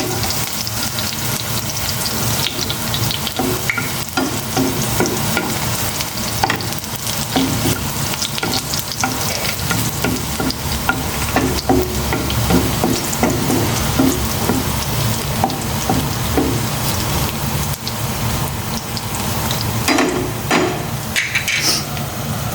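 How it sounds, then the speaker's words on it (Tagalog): Garlic and chili sizzle and fry in hot oil in a wok, a steady close crackle with repeated scraping and stirring strokes of a spatula throughout, no voices. "Ginigisa ko na ng bawang."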